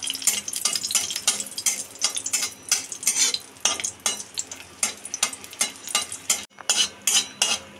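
Dried red chillies frying in hot oil for a Bengali potato and neem mash, with a utensil stirring and scraping the pan in a steady rhythm over a soft background sizzle.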